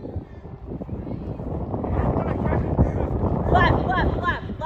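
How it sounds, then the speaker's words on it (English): Strong wind buffets the microphone outdoors during a DIY RC plane flight, a loud, constant low roar that swells louder midway, with voices calling out over it. "Lot of wind, lot of wind."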